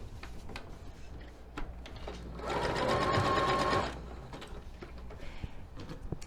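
A sewing machine runs a zigzag stitch to attach elastic onto fabric for a doll body and backpack, a steady close motor whir lasting about a second and a half over room noise.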